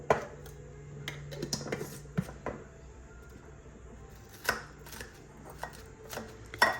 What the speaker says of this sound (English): Just crush everything in there